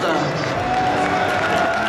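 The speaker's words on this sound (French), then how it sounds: "Allez, on les applaudit bien fort, c'est le finaliste." An audience claps and cheers for a Mario Kart 7 finalist at a French championship final at Japan Expo 2012, a dense, continuous wash of applause with a voice talking over it.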